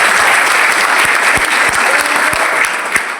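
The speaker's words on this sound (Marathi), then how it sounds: "टाळ्या।" A crowd at a Shiv Jayanti celebration in Chhatrapati Sambhajinagar bursts into loud, dense applause, a sustained close clapping that carries on evenly for several seconds with no speech over it.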